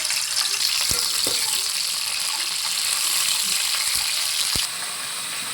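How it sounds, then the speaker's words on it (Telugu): Bitter gourd deep-fries in hot oil in a kadai, giving a dense, continuous bubbling hiss up close, broken by a few sharp clicks of a utensil against the pan. "ఆయిల్ కొంచెం వేడైన తర్వాత కాకరకాయలు మొత్తం వేసి డీప్ ఫ్రై చేయాలి"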